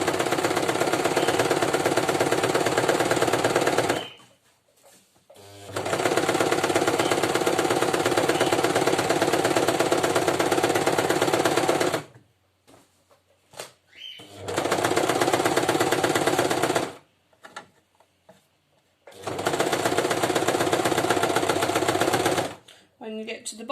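Sewing machine stitching a simple skirt seam, running in long steady bursts of about five to six seconds each, separated by short quiet pauses for back stitching, loud and close with no talk.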